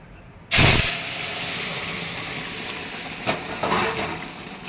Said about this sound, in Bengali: তেলটা গরম হয়ে গেছে, এখন আমি এই যে তরকারিটা ঢেলে দেবো